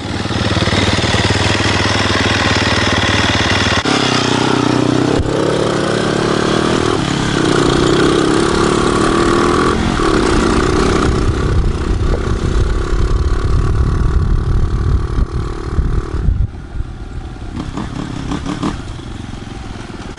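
A Honda CRF250R dirt bike with a Yoshimura exhaust and the dB killer removed runs loud and close, a raw rapping motorcycle engine that holds steady, then shifts in pitch as the throttle changes.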